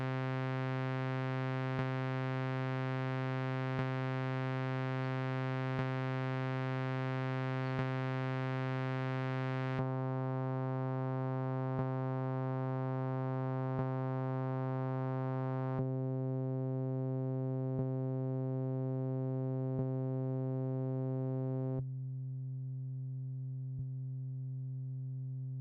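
A sawtooth synth in Strudel runs through a low pass filter set to 2000 as a sustained buzzy drone. Faint regular ticks punctuate it, and its brightness steps down in stages until the tone sounds muffled and dull.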